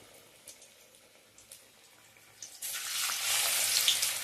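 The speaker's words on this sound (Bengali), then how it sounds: "এবারে আমি তেল গরম করেছি, তার মধ্যে ছেড়ে দিলাম।" Kalmi-greens stuffed pakoras dropped into hot oil, a faint quiet stretch followed by a sudden loud, bright frying hiss that swells and holds steady, close by.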